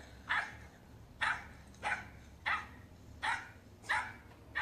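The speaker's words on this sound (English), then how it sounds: "you're barking in my face" A dog barking in sharp single barks, about six evenly spaced, moderately close, with a low background hum and no talking.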